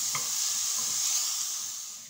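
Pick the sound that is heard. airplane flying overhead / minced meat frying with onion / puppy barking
minced meat frying with onion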